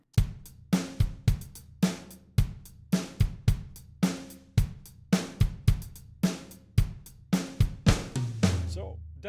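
A programmed drum pattern, humanized in Logic, plays as a steady groove of punchy kick and snare hits with ringing decays, about two hits per second, heard on its own.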